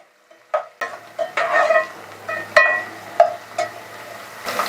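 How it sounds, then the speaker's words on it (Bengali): Pumpkin pieces stirred in a pan of hot tempered spices for a sour fish curry, with a steady sizzle and spatula clinks and scrapes in short repeated strokes, close and fairly loud, no voices. "কুমড়োটা ভাজিনি, আমি ফোড়নেই দিয়ে দেবো, আর একে 1-2 মিনিট সেদ্ধ করার মতন ভেজে নেব।"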